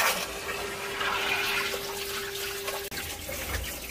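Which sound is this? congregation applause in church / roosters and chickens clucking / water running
water running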